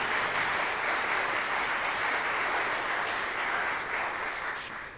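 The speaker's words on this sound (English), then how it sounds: "Let's give her a round of applause." A church congregation at a Sunday traditional Lutheran worship service claps steadily, a dense, even wash of applause filling the room for several seconds before starting to fade.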